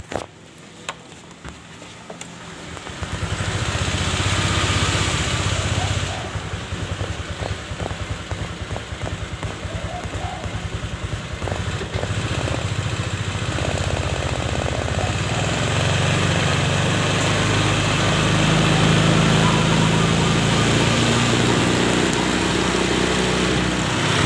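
Honda Vario 125 scooter engine, checked for a radiator fault with coolant running low, starts up and settles into a steady, loud idle that continues throughout with no talking.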